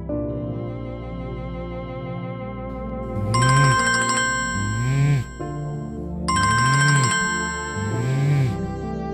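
A phone ringtone plays as a bright electronic melody, repeating in two near-identical phrases with chiming tones over a soft bed of music, loud and close.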